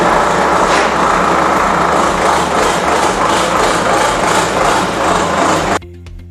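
An ACE tractor engine running steadily with a loud, even low drone, then cutting to near silence just before the end.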